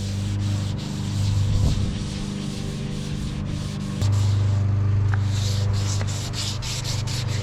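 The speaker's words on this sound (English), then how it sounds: "right now I'm just gonna wet this. Kind of makes the sandpaper glide a little bit smoother, a little bit better." Wet sandpaper rubbing over a surfboard repair on a snapped tail, a steady close scraping swish with rhythmic back-and-forth strokes throughout, no talking.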